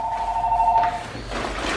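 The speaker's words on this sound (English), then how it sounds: "Got a phone call, Al." A telephone rings with a short electronic trill, close and clear, followed by a brief pause and quiet room noise.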